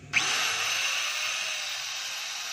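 A DeWalt DW54002 4-inch angle grinder switches on and spins up almost instantly to a loud, steady, high-pitched whine that runs unbroken and close by.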